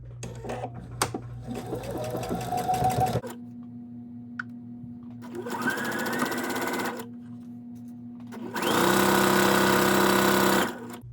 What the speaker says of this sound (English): now we're going to go to the sewing machine and sew it all the way around